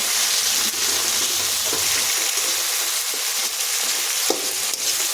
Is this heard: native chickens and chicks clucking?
no